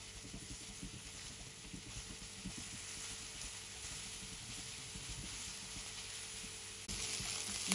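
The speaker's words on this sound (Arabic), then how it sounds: "بقليهن على الغاز." Onions frying on a gas stove, seasoned with a little salt, give a steady, faint sizzle and crackle that runs continuously and alone, swelling slightly louder near the end.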